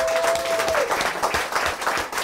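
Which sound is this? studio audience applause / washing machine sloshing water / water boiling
studio audience applause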